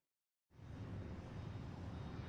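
Steady airplane cabin ambience, a low broadband engine and air rumble that cuts in abruptly after half a second of silence and then holds constant.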